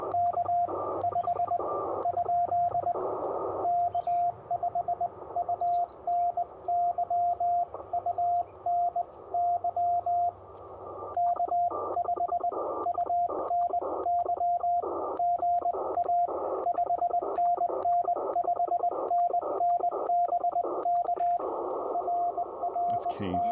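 Morse code CW keyed on a Ten-Tec Argonaut VI radio during an outdoor low-power POTA activation: a steady, clear keyed tone pulses in quick dot-and-dash rhythm through nearly the whole stretch, with brief pauses between groups.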